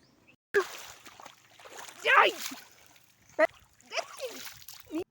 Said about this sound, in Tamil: அக்காவும் தங்கச்சியும் தண்ணியில் என்னமா விளையாட்டு போட்டுட்டு இருக்காங்க பாருங்க.